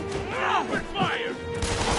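Enemy thugs open fire with guns in the Marvel's Spider-Man video game, a burst of shots and impacts layered with harsh combat noise and shouting voices.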